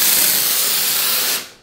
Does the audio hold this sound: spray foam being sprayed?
yes